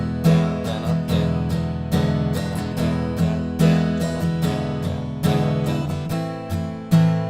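Acoustic guitar strummed in a down-down-down-down-up pattern through the last chorus of a song, full bright chords ringing steadily and close with no singing or talk.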